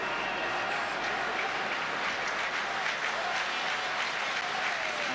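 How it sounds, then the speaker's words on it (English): A football stadium crowd at a Belgium versus Wales European Championship qualifier roars and cheers in a continuous dense wash, with a match commentator talking over it. "And the crowd starting to get behind the Belgian side."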